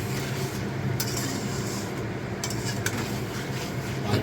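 Meat being stirred in oil in a pan, giving a steady sizzle and frying hiss with a few sharp scrapes of the spoon against the pan, close and continuous.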